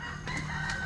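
A rooster crows among farm chickens near a riverside garden plot, with a fairly faint, drawn-out call set against a low background hum and no talk.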